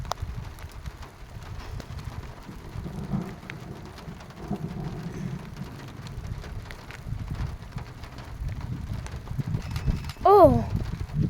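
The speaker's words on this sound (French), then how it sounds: "Ah, c'est des grosses gouttes!" Steady heavy rain in a strong June thunderstorm, fat drops drumming continuously with low rumbling beneath, and people talking excitedly over the downpour.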